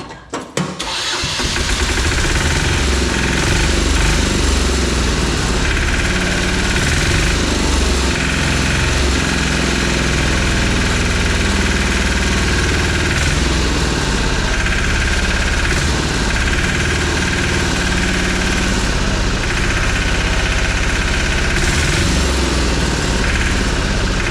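A Lombardini 3LD 510 engine with a sticking throttle linkage rumbles loudly and steadily after a brief start, a dense, unbroken mechanical drone with no talking.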